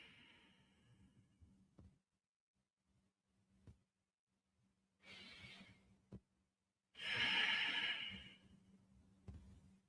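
Slow, close breathing: soft breaths, then louder airy exhales and inhales separated by quiet pauses, with a faint low hum underneath.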